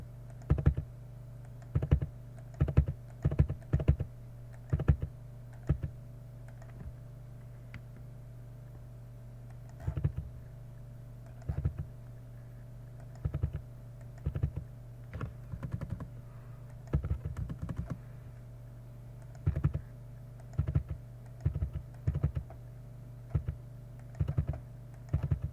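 Keys tap on a computer keyboard in irregular clusters of quick clicks separated by short pauses, close and fairly quiet, with no voices.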